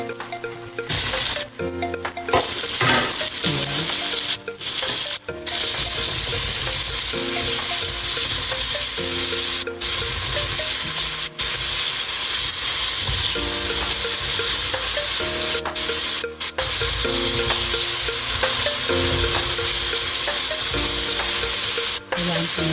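Onions and tomatoes sauté in a pan with a loud, continuous sizzle and hiss, broken by occasional scraping stirs and clinks of a utensil over a long stretch.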